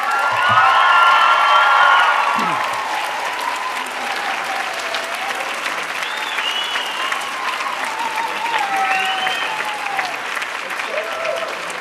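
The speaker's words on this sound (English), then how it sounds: "by your applause, shouts, and hollers, let them know just how much you appreciate them" Graduates at a 2013 GCC commencement break into loud applause, with cheering, whoops and hollers rising over the clapping early on and a sustained roar of crowd noise carrying on after.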